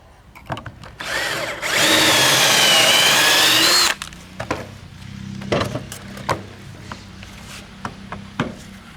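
A cordless power drill whines loudly at steady high speed for about two seconds while backing screws out during sea wall repair work, followed by quieter clicks, knocks and handling noises nearby.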